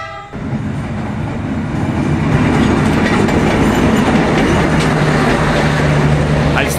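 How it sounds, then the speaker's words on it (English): A train rolls through a narrow alleyway packed with market stalls in a very cheap country, its wheels making a loud, steady rumble that swells up close, with a horn sounding near the end. "I still don't know how the train is an actual thing."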